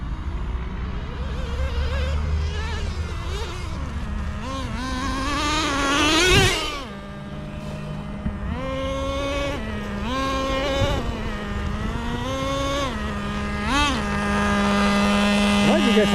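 A Traxxas Nitro Rustler 2.5 nitro RC car fitted with sand paddle tires and running 33% nitro revs loudly across beach sand, its high buzzing engine rising and falling in pitch as it drifts, with someone talking over it.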